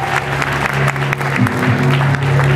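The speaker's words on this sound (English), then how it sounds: "Ladies and gentlemen, give her a big round of applause." Dense, loud applause from a talent-show audience continues without a break, with a steady tonal hum or music under the clapping.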